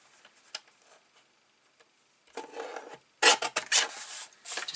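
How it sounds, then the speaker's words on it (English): Thin card trimmed on a paper trimmer, a few short rasping slides of the blade, near and close-up, growing louder toward the end with light ticks in between. "I'm going to trim that side just a wee bit."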